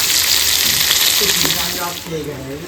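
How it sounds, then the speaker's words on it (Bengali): Chopped ginger, capsicum, tomato and green chilli fry loudly in a pan with a dense, crackling sizzle. Toward the end the sizzle softens and a voice talks over it. "আর আদা কুচি দিয়ে দেবো ক্যাপসিকাম আর কটা মুখ টমেটো দিয়ে দেবো কুচিটাও দিয়ে দেবো লঙ্কা কুচি দিয়ে দেবো"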